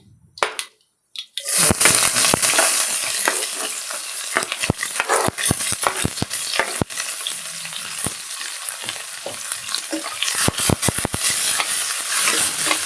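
Cumin, urad dal, chopped onion and four green chillies frying in hot oil for a leafy greens and dal curry, a loud steady sizzle with scraping stir strokes, following a brief quiet start.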